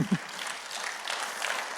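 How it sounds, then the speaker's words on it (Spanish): A church congregation claps together, steady dense applause at moderate distance after a brief low vocal sound at the start. "Dele fuerte esas palmas al Señor"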